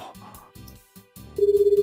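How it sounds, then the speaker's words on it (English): A phone ringtone plays in the Dies irae visual novel, a loud, steady pulsing electronic tone that starts suddenly after softer background music. "And you have a normal ringtone compared to Ren."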